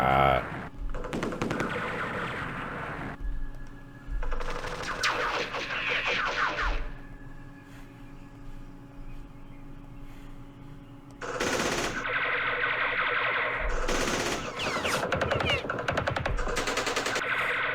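Bursts of automatic gunfire from the Battle of Hue in Campaign Series Vietnam, a Vietnam War strategy game, come in several loud rattling volleys separated by quieter gaps, with a faint steady tone running underneath.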